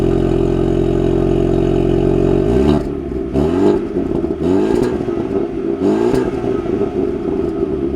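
A 2024 Ford Mustang EcoBoost with its turbocharged four-cylinder engine holds a steady idle at first, then pulls away in a few rising revs with brief dips between shifts, loud and close throughout.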